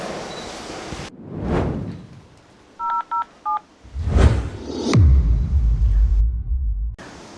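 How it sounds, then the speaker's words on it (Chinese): A telephone keypad dials a call: about four short, clean beeps in a quick, uneven rhythm, set between rumbling and door-like thuds. "以防万一，我现在就给医生打电话确认一下。"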